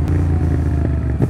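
Yamaha FZ07 motorcycle fitted with a full exhaust system, its engine running loud and steady at close range with a deep rumbling tone and a brief rev swell near the end.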